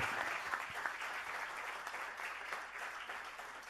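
Church congregation applauding during a Spanish-language sermon, a steady, fairly distant wash of clapping throughout, soft and even in level.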